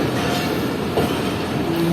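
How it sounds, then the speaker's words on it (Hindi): Awam Express passenger train pulling out of Nawabshah railway station, a steady broadband rumble of wheels and carriages rolling close by at constant loudness, with a faint high tone near the end and no talking. "तकरीबन 3 मिनट रुकने के बाद ट्रेन निकल रही है नवाबशाह रेलवे स्टेशन से।"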